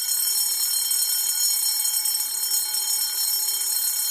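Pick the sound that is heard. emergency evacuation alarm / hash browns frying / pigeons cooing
emergency evacuation alarm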